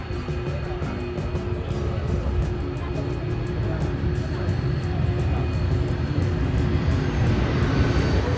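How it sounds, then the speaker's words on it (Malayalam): Airplane coming in to land at Taipei Songshan Airport, a loud, continuous jet roar that swells slightly as it passes close overhead. "ഇപ്പോൾ വീഡിയോ കാണാൻ പറ്റുന്ന പോലെ അങ്ങ് ദൂരെ നിന്നൊരു ഫ്ലൈറ്റ് വരുന്നുണ്ട്"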